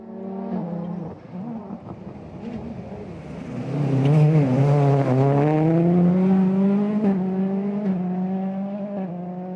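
Rally car on the Rally Monte Carlo stage taking a famous hairpin bend with the handbrake, engine dipping then rising into a loud sustained rev as it powers out of the corner, close and alone.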